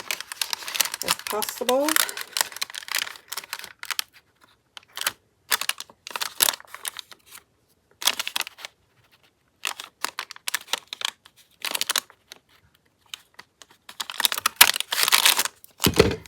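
Paper punch cutting a thumb notch into an envelope-pocket page for a handmade tag book, a string of sharp crunching and crinkling paper bursts in irregular clusters, with a voice speaking briefly at the start.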